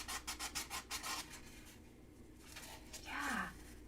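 Sandpaper rubs back and forth over a wooden joint in quick rhythmic strokes, loud and close, then fades into a quieter scraping pass near the end.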